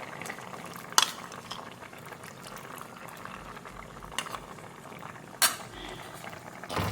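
A pot of thick Bombay sambar made with gram flour bubbles and is stirred, with a steady simmering hiss and a couple of sharp spoon clinks against the pot.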